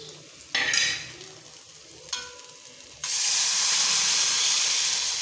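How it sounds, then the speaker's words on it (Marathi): Boiled chandan batwa greens dropped into a chili tempering, two short sizzling bursts as they hit the hot oil, followed by a loud, steady hiss of frying that holds to the end. "आता आपल्याला यामध्ये उकडून घेतलेली चंदन बटव्याची भाजी घालून घ्यायची आहे"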